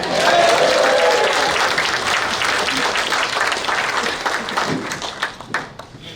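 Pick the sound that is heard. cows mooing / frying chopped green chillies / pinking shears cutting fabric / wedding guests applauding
wedding guests applauding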